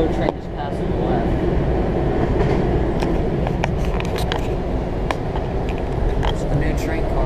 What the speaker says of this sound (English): railroad train just passed to the left.